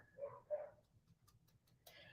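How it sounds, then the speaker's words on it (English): Dogs shut in their kennels give two short, mournful howls from a distance, followed by near silence broken only by a few faint clicks and a soft noise at the end. "I can hear the howling"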